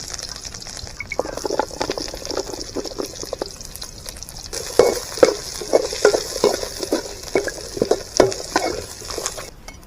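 Onions frying in a hot pan outdoors at a village cooking site, stirred with repeated scraping strokes over a constant bright sizzle, close by and fairly loud, with no voices.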